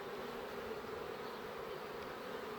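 Honey bees hum in a dense, continuous buzz around the hives of a spring apiary, many insects blending into a steady drone close by, with no voices.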